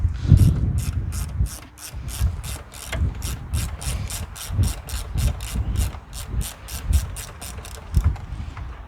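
An 8 mm socket ratchet works a bolt loose on a Ford Focus, clicking in quick, even bursts of pawl ticks with soft handling knocks between them, close up and without talk.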